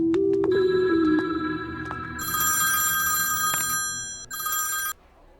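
An old-style telephone bell rings in several loud bursts with a clear metallic tone. The ringing cuts off abruptly near the end.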